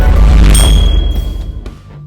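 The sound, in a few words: notification bell ding sound effect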